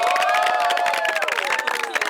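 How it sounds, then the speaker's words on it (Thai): A studio audience on a Thai modeling competition show cheers and claps loudly, with high excited shouts over dense applause that fades toward the end. "ขอเสียงปรบมือ"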